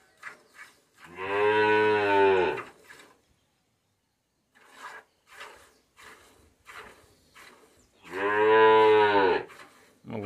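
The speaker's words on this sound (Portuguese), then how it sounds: "porque a vaca é braba, hein?" Two long, loud cow moos on a farm, each lasting over a second and separated by a quiet stretch with faint scattered rustling and knocks; the animal sounds close by.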